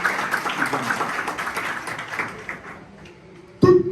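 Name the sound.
audience applause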